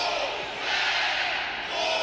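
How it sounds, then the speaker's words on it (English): Crowd chanting for NC State wrestler Matty Singleton at a college wrestling match, a dense, sustained roar of many voices filling the arena. "There are your Wolfpack chants. Crowd getting behind Matty Singleton."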